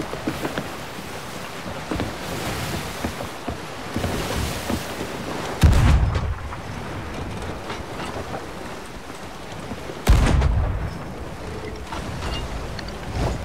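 Cannons fire from a ship in the pirate game Sea of Thieves, two heavy booms a few seconds apart over steady wind and sea noise.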